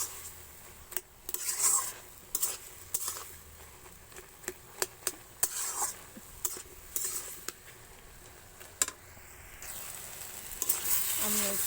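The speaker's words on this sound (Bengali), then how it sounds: "আবার ঢাকনাটা খুলে আমি একটু সবজিগুলো নেড়ে দিচ্ছি।" Potato, eggplant and chikni greens are stirred in a pan for a chorchori, with irregular scraping and clinking of a spatula against the metal and a faint sizzle between the strokes.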